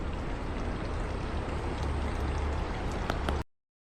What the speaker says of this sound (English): look at that cow is having a piss